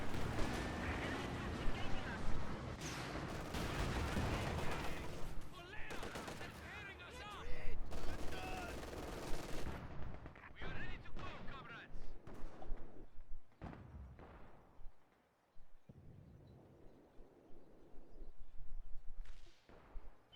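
A support gun and other gunfire in the World War II strategy game Company of Heroes 2: loud, repeated sharp shots and booming blasts in irregular bursts, with quieter stretches between them and voices talking over some of it.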